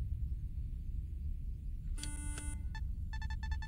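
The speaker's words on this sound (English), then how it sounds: "so one beep for yes, two beeps for no." A series of electronic beeps over steady low background rumble: a longer tonal beep, a short blip, then a rapid cluster of quick beeps.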